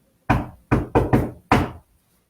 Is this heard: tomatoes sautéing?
no